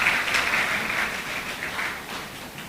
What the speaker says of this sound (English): Round of applause for the judges, please.